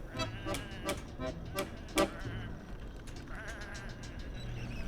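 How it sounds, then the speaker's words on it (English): Sheep bleat repeatedly in the adventure video game Whateverland, several calls overlapping at close range over a busy background, with a sharp louder bleat near the middle and no talk. "Come on, these are just sheep."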